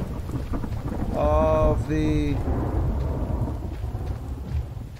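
Rain and thunder in the video game The Infected: a steady, dense wash of rainfall with a low rumble throughout, while someone talks briefly over it.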